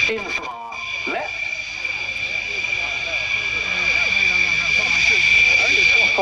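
A modern combat jet flying in from the left at an airshow gives a building jet roar that grows louder across the clip, with a tonal whine and a public-address voice talking over it.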